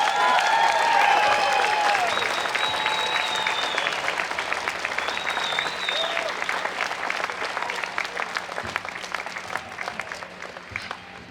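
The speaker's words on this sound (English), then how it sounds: "Let's give another round of applause for the courage for Anusa to share that" A crowd at a March for Life rally in Brisbane applauds, dense clapping that slowly thins and fades over several seconds, with a few cheers and whistles early on.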